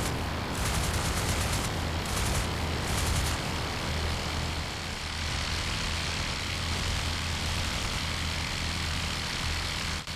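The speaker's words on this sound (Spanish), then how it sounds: "El motor del nuevo Nieuport comenzó a echar humo, y el avión descendió en una caída en espiral." A World War I Nieuport biplane's engine drones steadily and loudly with a low propeller throb, broken early on by rapid bursts of machine-gun fire, with no voices.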